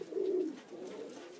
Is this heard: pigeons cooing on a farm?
yes